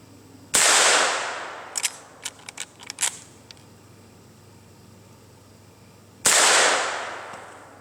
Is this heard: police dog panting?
no